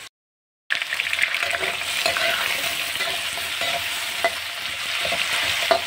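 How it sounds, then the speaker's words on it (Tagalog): Potatoes sizzle and crackle steadily as they fry in hot oil, with occasional stirring clicks from a utensil, close up and without talk. "Prito ko lang, guys, ang patatas"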